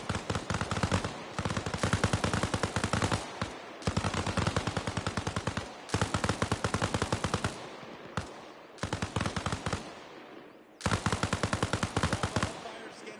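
Sustained automatic gunfire in the military shooter game Arma Reforger, long rapid bursts from a machine gun, loud and close, broken by short pauses and a brief lull before firing resumes.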